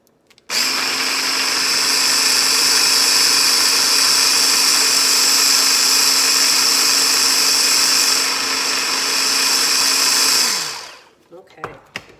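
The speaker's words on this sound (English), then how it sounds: "So let's give it another little whisk." A chickpea scramble mixture with maple syrup being whisked gives a loud, steady motorized whir that holds for about ten seconds, then winds down and stops, leaving a few faint clicks.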